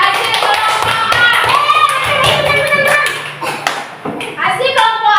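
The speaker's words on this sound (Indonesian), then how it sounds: "Coba tepuk tangan." Children in an Indonesian classroom clap their hands for a group's presentation, a quick burst of scattered claps and taps mixed with young voices chattering loudly nearby.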